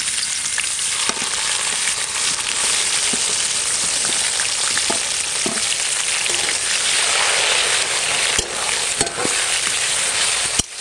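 Onion, chili and tomato fry together in a hot pan for a desi chicken curry, a loud, steady sizzle with occasional stirring clicks throughout.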